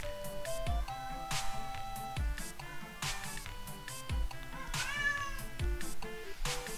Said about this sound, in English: I know you're meowing, but it's not even dinner time, Beeponk!